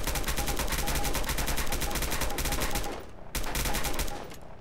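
Loud, sustained automatic gunfire rattles in fast repeated bursts, briefly dropping off near the end before resuming, with no voices over it.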